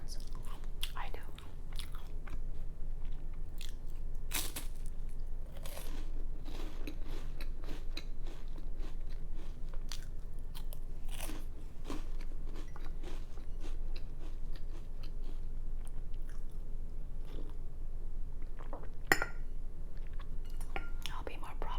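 Crispy food bitten and chewed close up in an ASMR eating session: a steady run of sharp, crackly crunches and clicks, with soft whispering talk throughout.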